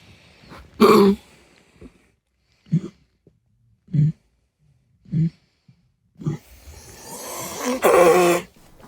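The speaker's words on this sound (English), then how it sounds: "That was the sound of Kiwi having some kind of coughing fit." A dog named Kiwi in a coughing fit at night: a loud hacking burst, then a series of short, evenly spaced coughing grunts, ending in a longer harsh wheezing, retching stretch.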